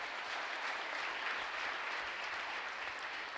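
A church congregation applauds in a dense, even burst of clapping that holds steady for a few seconds.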